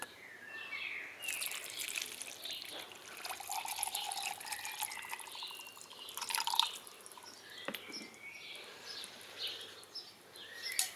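Water is poured into a container to dissolve sodium terephthalate, a quiet trickling and dripping pour in a lab setting that swells and fades several times with faint splashes, no talking.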